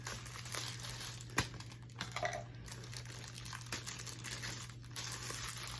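Scissors snip and plastic packaging crinkles as wrapping is cut off a new handbag, close and quiet, with scattered small clicks and rustles over a low steady hum and no talking.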